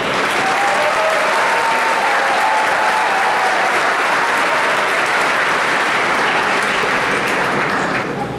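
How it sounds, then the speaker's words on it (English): A large audience breaks into sustained, loud applause at a ballpark Pack the Park event honoring baseball player Ben Zobrist, steady dense clapping filling the space for the whole stretch. "Please give a round of applause."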